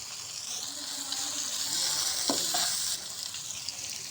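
Spice masala with turmeric and green chillies fries in a pan, giving a continuous bright sizzle that swells in the middle, with a couple of short scraping stirs.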